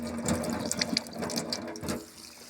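Cold water runs gently from a low tap at a hut high in the mountains, with a close, uneven splashing and trickling and light clicking textures, and no talking.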